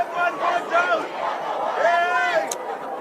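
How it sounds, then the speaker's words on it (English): Ugandan fans at a rugby sevens match in Harare cheer on Kenya's Shujaa, a lively crowd of voices shouting and chanting, with a commentator talking over them. "as you can hear from the crowd, those accents are not just Kenyans, they are Ugandan accents cheering on the Shujaa here in Harare"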